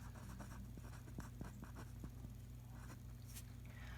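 Pen or pencil writing on paper, a series of quick faint scratchy strokes close up, over a steady low background hum.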